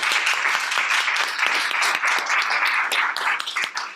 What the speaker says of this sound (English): one more round of applause for Tim.